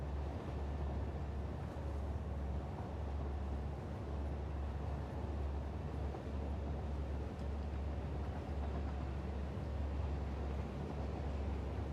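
A very large train rolls along in the factory-building game Satisfactory, giving a continuous low rumble with rhythmic clacks of wheels passing over track joints, steady and moderately distant with no voices.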